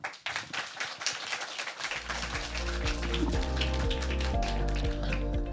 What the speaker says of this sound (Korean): 유익한 발표를 해주신 대표님께 다시 한번 큰 박수 부탁드리겠습니다